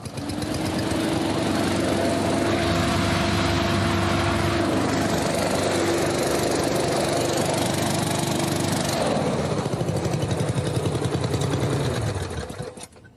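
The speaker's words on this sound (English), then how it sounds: "testing the first crucial part of the yellow team's craft, their lift engine and fan" A homemade Scrapheap Challenge craft's lift engine spins its fan with a loud, raspy small-engine drone and a steady tonal whine that shifts pitch midway, runs for several seconds, and then winds down.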